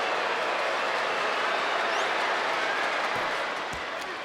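Basketball arena crowd in a Cavaliers–Hawks NBA game reacting loudly to a foul call, a sustained broadband roar of voices and noise that holds steady and eases slightly near the end.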